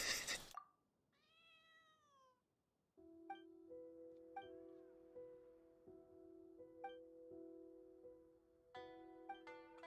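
A cat named Neko gives one close, drawn-out meow early on, followed by quiet, bell-like tones plinking in a slow pattern.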